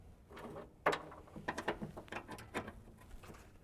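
A hand ratchet tightening a bolt on a '57 Chevy, a quiet series of short clicking strokes in an irregular rhythm, heard up close with no talking.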